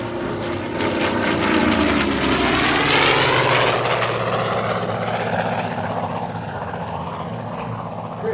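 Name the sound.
CAF FG-1D Corsair fighter plane flying past at air show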